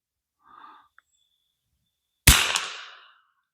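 A single loud rifle shot from a vintage J. M. Marlin Ballard at an outdoor range, a sharp crack with a ringing tail, after a brief faint breath or murmur.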